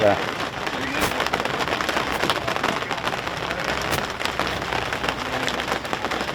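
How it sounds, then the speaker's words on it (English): Steady rain pours down on a rugby league ground, a dense, continuous hiss that holds at an even level throughout. "Rain steady here at Freiburg Park this afternoon."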